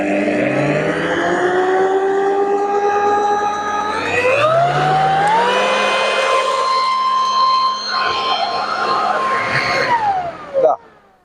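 A Steinhaus PRO BL3000 3-in-1 leaf blower and vacuum runs with a loud whining motor tone that climbs in pitch as it speeds up, holds steady, then winds down near the end.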